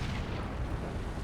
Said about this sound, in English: More explosions further inland there